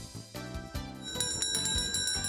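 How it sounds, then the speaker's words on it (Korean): A bell rings at an outdoor rock-breaking ritual on the outskirts of La Paz, Bolivia, its steady metallic ringing carrying over a busy background. "종이 울리고"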